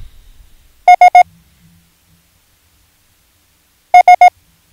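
Two groups of three short, evenly spaced beeping tones sound the Morse letter S, crisp and loud against silence, the second triple arriving about three seconds after the first.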